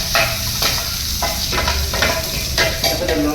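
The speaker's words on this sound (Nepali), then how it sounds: "तेल गरम गरेपछि टक्क लसुन हाल्ने। लसुन मजाले फ्राउने हैन।" Garlic sizzles loudly in hot oil in a frying pan while cooking dhaba-style chicken kadai, with a spoon stirring and scraping the pan in short, repeated strokes.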